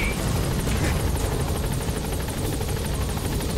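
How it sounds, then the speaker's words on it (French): Helicopter in the video game Metal Gear Solid 5, its rotor chop and engine roar a steady, loud, continuous thrum for the whole stretch with no speech. "L'hélicoptère du bling."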